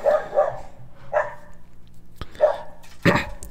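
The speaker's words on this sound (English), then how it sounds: "If you can hear a dog barking, it's my father's dog." A dog barks several times at uneven intervals, fairly close, with short sharp woofs and brief pauses between them.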